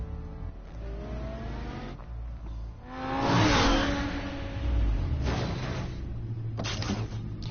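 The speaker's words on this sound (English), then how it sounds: "Here I am with my expensive red car. Back in the cave." Batman's expensive red car from the Telltale Batman game drives into the cave, its engine droning and swelling in a couple of revving surges with a whooshing pass, loud and close with no voices.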